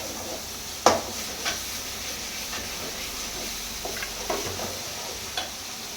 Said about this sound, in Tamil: இஞ்சி பூண்டு பேஸ்ட்டை வந்து நல்லா வதக்கிட்டோம்